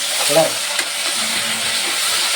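Vegetables for a sambar being stir-fried in a hot pan give a steady, close sizzle, with a brief stir or scrape near the start, continuing evenly without talk.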